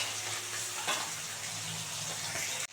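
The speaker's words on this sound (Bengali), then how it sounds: "এই দেখ একবারে ভাজা হয়ে গেছে কড়া করে ভাজা হচ্ছে" Puti fish frying crisp in hot oil in a pan, a steady broadband sizzle and crackle that holds evenly throughout with a brief louder burst near the start.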